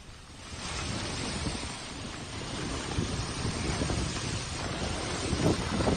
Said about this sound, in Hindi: कल अचानक से मौसम बदलने लगा, फिर तेज हवाएं चलने लगी